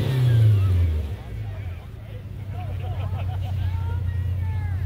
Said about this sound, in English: Revving your engine doesn't help with the crowd's reaction.